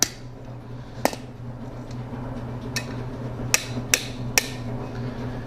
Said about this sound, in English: we'll hammer this a little flatter here